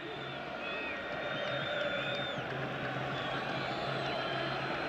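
A dense, steady roar from the football crowd at an Algeria vs Nigeria 2018 World Cup qualifier fills the stadium, with a continuous wash of noise, whistles and scattered shouts and no single voice standing out.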